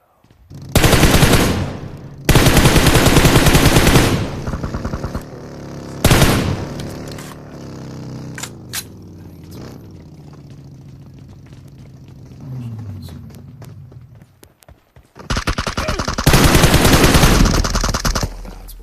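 Gunfire in the mobile battle-royale game PUBG Mobile, with loud bursts of rapid automatic fire in several separate strings and a few single shots between them, over a low vehicle-like rumble.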